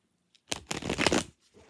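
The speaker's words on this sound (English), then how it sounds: "I gotta get better at shuffling this specific deck because the cards are still fairly new" A new tarot deck is shuffled in one quick riffle, a crisp burst of cards flicking together lasting under a second, close and alone.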